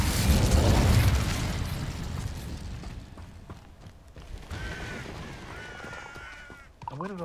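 A burst of fire from the Incendio spell cast in Hogwarts Legacy, a loud whooshing blast at the start that fades into rumbling game ambience, with a brief magical flourish near the end.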